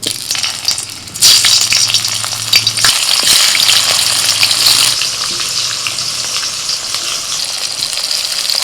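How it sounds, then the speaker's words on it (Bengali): Tomatoes sizzle and spit in hot mustard oil in a wok, a loud, steady frying hiss with crackling bursts that lasts throughout, with no voices. "এবার একে একে টমেটোগুলো দিয়ে দিচ্ছি তেলের মধ্যে"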